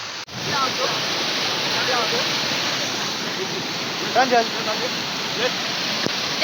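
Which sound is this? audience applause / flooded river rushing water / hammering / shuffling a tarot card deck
flooded river rushing water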